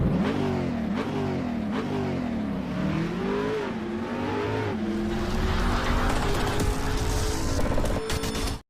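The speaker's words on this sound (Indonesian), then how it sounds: "ada kendala di mobil Grand Max, yang mana dia RPM-nya itu nggak mau kecil" A Daihatsu Gran Max engine stuck at high RPM that will not drop back down, droning loudly and steadily with its pitch wavering up and down before settling into a sustained high whine, no talking.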